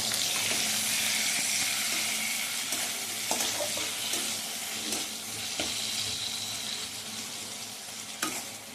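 Tomatoes fry with a steady, dense sizzle in a pan of oil for khichuri, with occasional scrapes and knocks of stirring over the continuous frying hiss.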